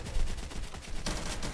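Gunshots fired in a Roblox zombie survival game, a dense burst of rapid, loud synthetic shots with a sharper crack near the end, heard alone without talk.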